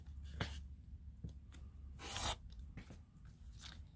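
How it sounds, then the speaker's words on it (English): Scissors cutting fabric pieces for a quilt, with a few soft crunching snips and rustles spread apart, quiet and close with no talk. "we're going to cut out these two sides"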